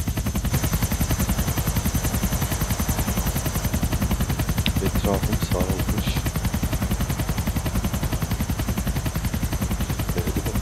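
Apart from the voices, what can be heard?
police helicopter and gunfire in video game Grand Theft Auto IV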